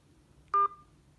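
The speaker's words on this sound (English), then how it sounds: "Please use your keypad to enter the number of cases you would like to order" A single short telephone keypad tone beeps once, clean and clear, against near silence while a number of cases is entered for an automated order line.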